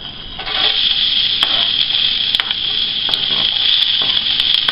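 Onion frying in a pan for Spanish rice, a loud continuous sizzle with occasional scraping stir strokes and small clicks.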